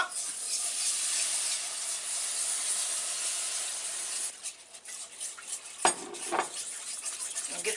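Milk being stirred into a browned flour roux in a pan, a steady soft hiss and scraping swirl that gives way to irregular utensil clinks and rubbing strokes near the end.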